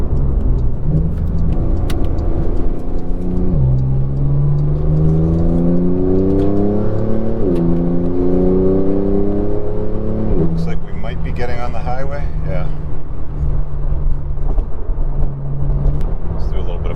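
A 2021 Porsche 911 Turbo S engine pulls hard on a highway, revving up through several gear changes with rising, stepped engine tones and steady road and wind roar, loud and close from inside the car.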